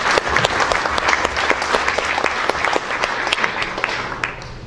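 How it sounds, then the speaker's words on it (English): Lively audience applause at a tech meetup, many hands clapping densely and steadily for nearly five seconds, with a few sharper individual claps standing out. "let's give Chris a round of applause"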